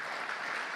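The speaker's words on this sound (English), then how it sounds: "A huge round of applause for Nitika." Brief burst of audience applause at the IDEX Legal Awards 2018 ceremony, a dense, even roar of many hands clapping that holds steady throughout, with no voices standing out.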